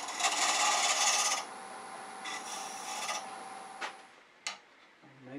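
Gouge rasps against spinning wood on a lathe while turning a bead, a continuous scraping hiss that comes in uneven bursts and then a few sharp knocks, fairly close with no talk.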